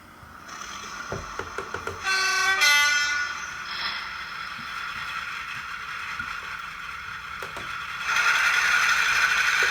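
A sound decoder in a Hornby Flying Scotsman model locomotive plays steam locomotive effects: a whistle blast rises early, then a steady hiss and rumble of chuffing, with sharp clicks and a louder hissing burst near the end.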